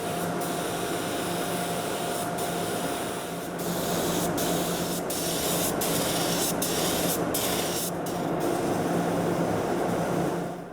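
Spray gun applying top coat paint to a very large military aircraft inside a hangar, a steady continuous hiss with brief breaks in the spray, heard alone without talk.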